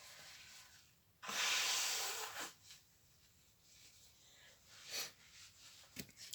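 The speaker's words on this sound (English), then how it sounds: "I've got to blow my nose." A person blows their nose near the microphone in a quiet room, with one long loud hissing blow followed by a few shorter, softer snorts and sniffs.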